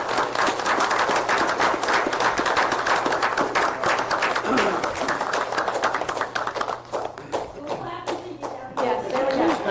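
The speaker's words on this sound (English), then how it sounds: "Here's the clapping." Applause at a town council meeting for an Officer of the Year award: a crowd's dense, continuous clapping that thins to scattered claps toward the end, with voices faintly underneath.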